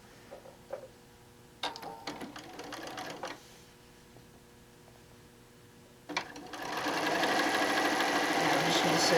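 A sewing machine joins quilt pieces: a few short, stuttering bursts of stitching come first, then a louder, sustained run of fast mechanical chatter through the final seconds.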